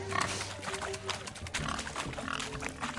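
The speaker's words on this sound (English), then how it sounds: "Blustering about after pigs, are you?" Pigs grunt and oink in The Witcher III during a swineherd pig-chasing race, with several busy, overlapping grunts over a dense game soundscape of music and ambience.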